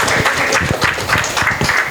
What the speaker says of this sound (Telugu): అందరూ కరతల మధ్య చప్పట్లు చాలా పెద్దగా